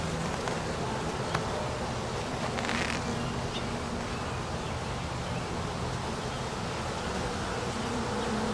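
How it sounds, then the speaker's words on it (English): Honeybees buzz on a beehive frame around a queen cell, a soft, steady hum that stays even throughout with no voices. "There's some bees here working on that one queen cell."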